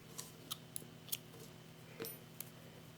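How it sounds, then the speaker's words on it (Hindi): Scissors snipping crochet thread during a handmade doll-dress project, a few quiet, sharp clicks spread over a few seconds against a faint steady hum, with no talking. "धागा को काट देते हैं।"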